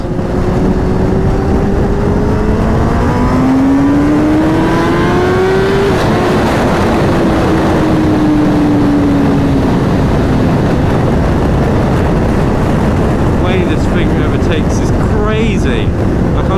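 A 2021 Kawasaki ZX10R SE sport motorcycle of about 200 horsepower accelerates hard, its engine note climbing in pitch and then dropping through gear changes, heard loud from the rider's position under heavy wind roar.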